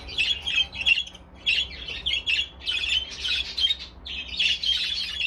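Breeding birds kept indoors squawk and chirp in repeated short bursts, fairly close and moderately loud, over a faint low background hum.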